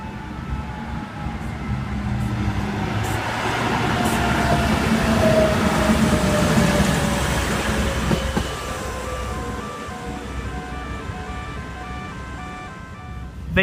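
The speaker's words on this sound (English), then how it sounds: "Got a Hunter set approaching." A Sydney Trains Hunter set, eight cars, rolls through Wickham station, a loud steady rumble with wheel noise swelling as it passes close by, then easing, with a faint high tone sliding downward mid-pass.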